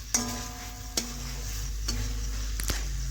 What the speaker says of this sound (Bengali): এইভাবে বেশ কিছুক্ষণ ধরে আমি কষে নেব, মশলার কাঁচা গন্ধ যাতে চলে যায়।